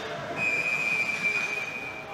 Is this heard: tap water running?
no